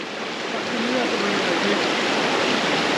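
A cold stream along a trail rushes steadily in a broad, even hiss of running water, swelling slightly after the first moment and then holding loud and close without a break.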